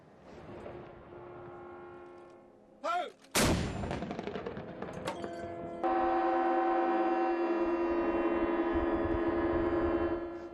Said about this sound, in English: cannons roared in Monaco at the announcement of the birth of the next head of the 700-year House of Grimaldi